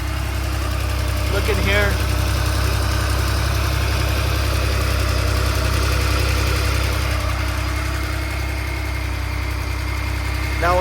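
A 1982 Porsche 911 Targa engine idles up close with a steady, slightly knocking mechanical rumble, while someone talks briefly over it.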